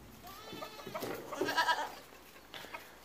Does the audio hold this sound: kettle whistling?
no